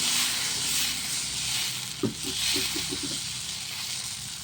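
Dosa batter sizzles on a hot pan over a stove, a soft continuous hiss with one brief clink partway through and a few light scraping sounds after it.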